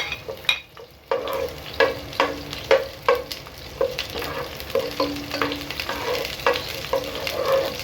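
Garlic and then onion sautéing in a hot pan for chicken tinola, a steady close sizzle broken by repeated stirring scrapes and clinks, with no one talking.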